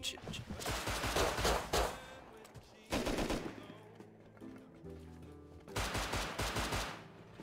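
Video game gunfire in an oil rig fight, dense rapid bursts of automatic shots in three loud volleys separated by quieter gaps with a low hum.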